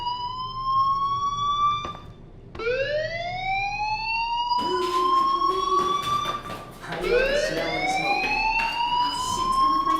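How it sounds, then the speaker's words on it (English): A fire alarm in the video game Life Is Strange wails loudly with repeated rising, siren-like sweeps that overlap one another over a low background hum. "Hey, do you hear that fire alarm?"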